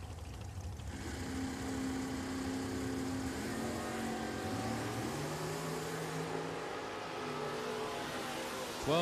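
At a dragway, a dragster and a 1989 Mustang race, heard as a steady engine roar with shifting pitch tones, moderately distant and continuous throughout, with no voices over it.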